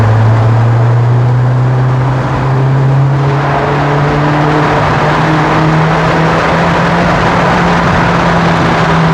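A naturally aspirated 2010 Kia Forte Koup sends out a loud, steady exhaust drone, its tone rising slowly as the revs climb, heard close and continuous with no talking.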